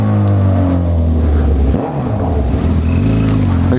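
A vehicle engine accelerates on a road near Rio Verde, Goiás, giving a loud, close, rumbling drone with shifting pitch that dips for a moment partway through, then surges again.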